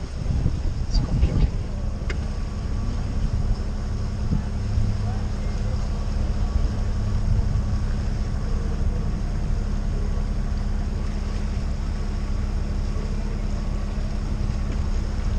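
A small tour boat motoring along the canals of Bruges, a steady low engine drone with wind buffeting the microphone, continuous and close throughout.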